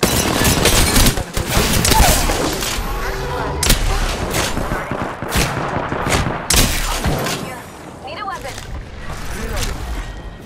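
Heavy gunfire in the Apex Legends video game: loud, close bursts of shots and impacts in rapid clusters, with in-game voice callouts over the firing.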